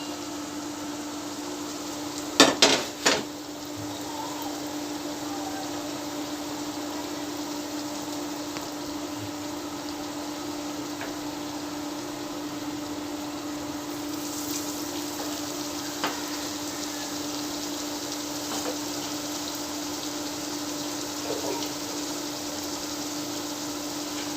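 Kebabs of green banana, potato, lentils and mixed spices fry in oil over medium heat, giving a steady, close sizzle with a few brief clatters near the start and no talking.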